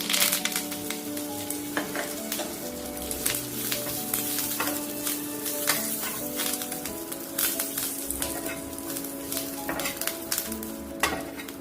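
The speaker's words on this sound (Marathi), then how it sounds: "त्यानंतर आपला हा थोडासा वाळवून घेतलेला कढीपत्त्याचा पाला या तेलामध्ये टाकून घ्यायचा आहे." Dried curry leaves fry in a pan of hot oil for a peanut chutney. The sizzle is steady and crackling throughout, with light clinks and stirring noises on top.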